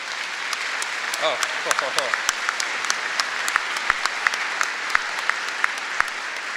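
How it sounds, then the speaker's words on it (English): Audience applause at a university convocation ceremony, a steady, moderately distant patter of many hands with scattered sharper claps standing out, and a brief voice early on. "I appreciate the applause"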